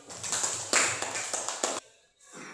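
Classroom applause for a student comes as a short run of brisk, fairly loud claps in a steady rhythm, then breaks off into near quiet.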